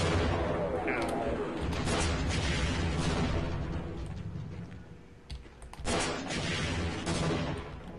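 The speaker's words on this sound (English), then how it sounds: "we'll just dumbfire the rockets at the Abrams" Rocket launches and explosions in Half-Life as rockets are dumbfired at an Abrams tank, a dense, loud barrage of booms and clatter with a brief lull before another burst.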